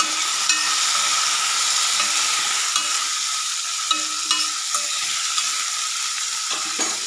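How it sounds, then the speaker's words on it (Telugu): Potato and brinjal pieces sizzle steadily in a pan while a spoon stirs them, with occasional soft scrapes and clicks over a continuous close frying hiss, no talking. "కట్ చేసి పెట్టుకున్న వంకాయ ముక్కలు కూడా వేసుకుందాం. వేసుకొని ఒకసారి ఇట్లా కలుపుకుందాం."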